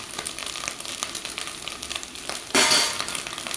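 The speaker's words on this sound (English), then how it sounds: "Stir it a little bit." Salt and tomatoes stirred in a hot frying pan, a steady soft sizzle with light scraping, then a louder burst of frying as more tomato goes in near the end.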